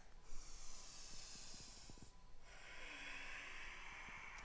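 Steady, audible yoga breaths drawn in and out through the nose during a sun salutation flow, a hissing inhale giving way to a longer breathy exhale, close and quiet with no voices.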